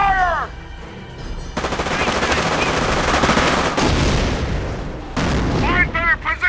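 Rapid machine-gun bursts and heavy gunfire from a World War II battle in Company of Heroes: Tales of Valor, loud and sustained across the clip, with shouted voices breaking through near the start and end.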